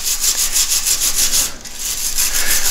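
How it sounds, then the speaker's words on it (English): A bristle brush scrubs the soldered PC board ties of model railway trackwork in quick, even back-and-forth strokes, a close, loud, rhythmic rasping that pauses briefly midway before resuming. "it does quite a nice job in scrubbing off any residue left over on the PC board ties from the soldering"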